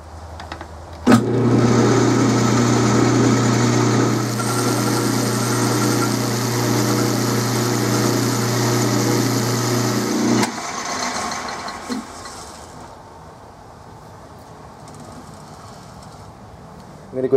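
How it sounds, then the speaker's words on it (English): A metal lathe machines a brass bushing fitted in a pulley for a Rockwell Model 14 bandsaw, a steady motor hum and whir running close for about nine seconds before spinning down into quieter workshop noise. "So I'm going to take that over the lathe and we're going to machine that off"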